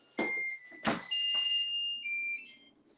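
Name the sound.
kitchen timer going off while cooking shrimp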